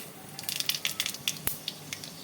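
Two dried red chillies and panch phoron dropped into hot mustard oil in a karahi, giving a burst of sharp crackles and spits that pop irregularly for a couple of seconds.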